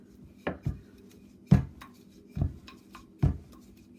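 A knife chopping ham on a board, five distinct firm thuds at an irregular, unhurried pace, close and clear with no talk.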